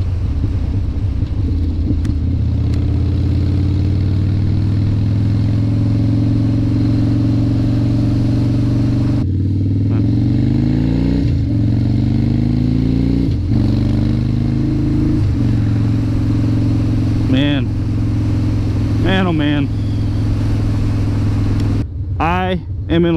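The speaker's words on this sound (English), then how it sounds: "The 2016 Harley-Davidson Street Bob from our awesome friends at Lone Star Harley-Davidson" A 2016 Harley-Davidson Dyna Street Bob motorcycle cruises in sixth gear at about 40 mph on a rainy day, its steady low engine rumble loud and continuous, with rising and falling pitch shifts and some road and wind noise.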